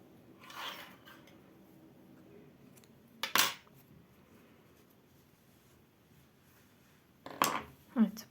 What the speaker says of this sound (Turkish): Zincirimi çekerek ipimi kesiyorum